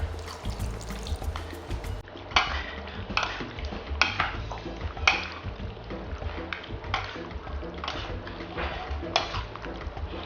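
Water pours in a kitchen while a Chinese steamed chicken dish with mushrooms and dried lily flower is being prepared, a continuous splashing trickle with a few sharper clinks, moderately close and fairly quiet.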